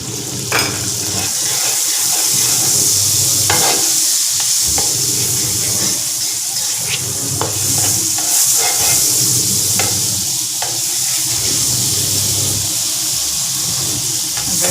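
Butter frying in a pan for prawn spaghetti gives a steady, close sizzle, with occasional sharp clicks and the scrape of stirring throughout.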